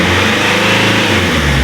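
A turbocharged Alfa Romeo engine revs up under acceleration, a loud, steady, rising mid-pitched drone with a faint turbo whoosh, heard close and alone.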